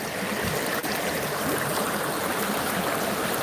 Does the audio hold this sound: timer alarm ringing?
no